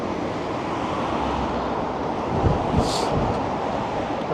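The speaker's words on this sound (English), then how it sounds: "Ooh, it is windy." Strong wind buffets a microphone fitted with a wind muff on a Toronto evening street, giving a constant, loud, roaring rush with gusty swells and no talk.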